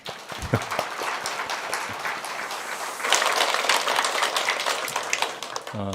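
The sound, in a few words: congregation applause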